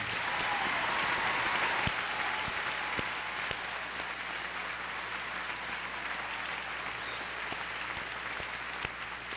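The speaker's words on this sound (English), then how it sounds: "How about a rousing round of applause for all those in the military?" An audience at a 2011 commencement ceremony applauds military graduates, a soft, distant wash of steady clapping with occasional sharper claps.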